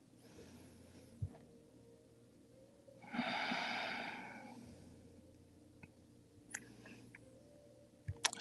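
A slow, deep breath during a quiet yoga class, one long airy exhale swelling and fading in the middle, with small faint clicks and snorts around it in a hushed room.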